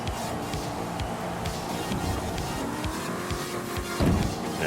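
Car in Forza Horizon 5 driving over bumps, a continuous revving engine with shifting pitch, tire noise and a few thumps as the suspension hits uneven ground, louder jolt near the end, no speech.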